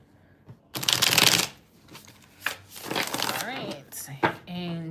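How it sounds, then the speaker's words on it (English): A deck of tarot cards riffled in one loud, close shuffle lasting about a second, followed by lighter card handling and a voice speaking briefly near the end. "Gonna switch decks after this shuffle."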